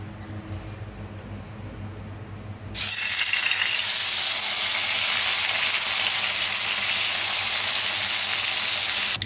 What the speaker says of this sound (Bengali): আদা রসুনটাকে ভালো মতো করে আমি গিয়ে ভেজে নিয়েছি।